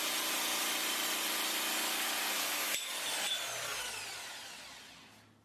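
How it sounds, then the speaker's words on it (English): A Bosch GST 150 jigsaw with a tungsten-coated blade cutting ceramic wall tiles, a loud steady grinding buzz that tapers off and fades as the cut ends. "fit a tungsten coated blade to cut ceramic wall tiles"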